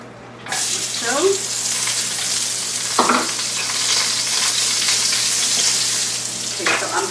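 Onions hit hot butter in a pan with a sudden loud sizzle that holds as a dense, steady crackle, broken by a few spoon or pan knocks.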